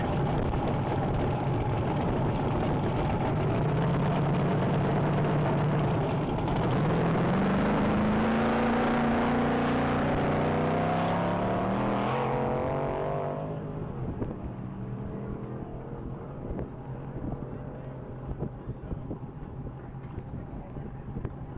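A 2015 Ford Mustang launching at the Texas Mile top-speed event, its engine note climbing steadily in pitch as it accelerates past, then fading into the distance under wind noise.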